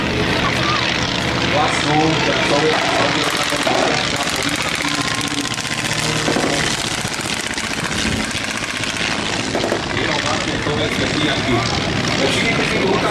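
A Soviet Polikarpov biplane and fighter aircraft fly over a tank show, making a loud, continuous propeller-engine drone with swells as they pass. A commentator speaks throughout, partly drowning out the engines.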